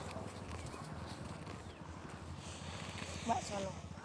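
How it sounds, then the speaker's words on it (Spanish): A horse's hooves clip-clop in a steady rhythmic gait on the ground, close by, under speech, with a brief whinny-like cry near the end. "este caballo está por comer los pastos"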